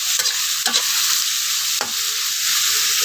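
Chicken for pancit bihon sizzles steadily in a hot pan, with a few stirring scrapes and clinks of the utensil on top of the close, constant frying hiss.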